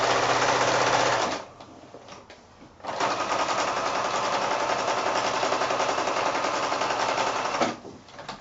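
A sewing machine stitching quilt-as-you-go blocks together with blue top thread, running in fast steady bursts close up, pausing briefly near the start and again near the end, with no talk over it.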